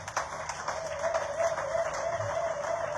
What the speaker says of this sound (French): Est-ce que tu peux acclamer le Seigneur ce matin?